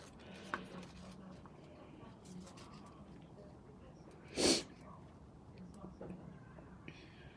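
One sharp sneeze bursts out midway through a quiet indoor scene, with soft background talk and small handling noises around it.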